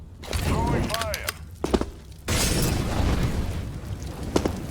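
A molotov thrown on the Anubis map in Counter-Strike ignites with a sudden whoosh and roaring burst of fire after some clattering movement sounds, the flames crackling on loudly to the end.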